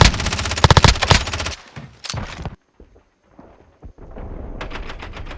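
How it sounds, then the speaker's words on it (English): Bursts of rapid automatic gunfire from Modern Warfare (2019), loud and close, followed by scattered thuddy hit-marker impacts and quieter moments, then more steady firing near the end; no speech. "The hit markers are louder, more thuddy, and less raspy than the older Modern Warfares"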